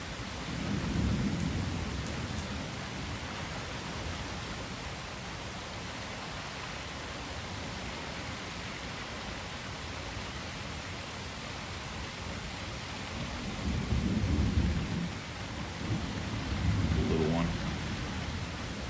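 A summer thunderstorm in Manorville: steady rain hisses throughout, while low rolls of thunder rumble up near the start and twice more toward the end.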